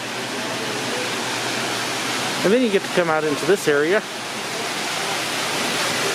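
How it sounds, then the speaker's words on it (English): Continuous rushing water from a nearby indoor waterfall inside a large Bass Pro Shops store, steady and loud, with a person talking briefly over it in the middle. "check out the waterfall. Yes, folks, this is inside a store."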